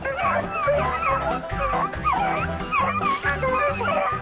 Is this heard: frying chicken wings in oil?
no